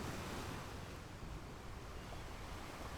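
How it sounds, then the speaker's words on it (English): Waves washing against a sandy shore on a summer beach, a continuous close wash of surf with windy rumble and no distinct breaks. "The waves hushed against the shore, like they were listening too."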